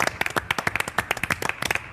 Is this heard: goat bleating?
no